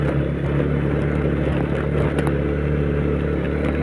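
A vehicle engine labors in second gear up a mountain road, a steady low drone with road and wind rumble, close and fairly loud, no speech.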